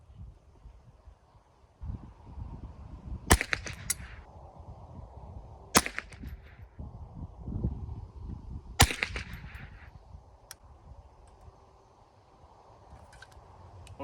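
Savage 62 .22 LR semi-auto rifle firing CCI Mini Mag ammunition: three sharp, fairly faint cracks spaced a few seconds apart over a low outdoor rumble of wind and handling noise.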